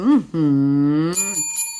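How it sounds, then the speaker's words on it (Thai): A bright bell chime rings out clearly, with sustained ringing tones followed by a few short higher dings fading off. "ขอกดกริ่งให้หน่อยนะ"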